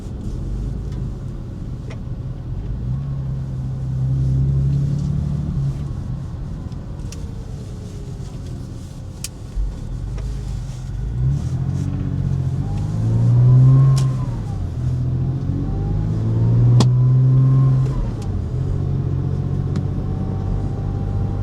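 A Porsche Boxster engine hums from inside the cabin, then revs hard in several loud accelerating surges while the car is driven.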